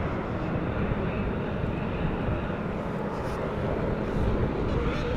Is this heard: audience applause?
no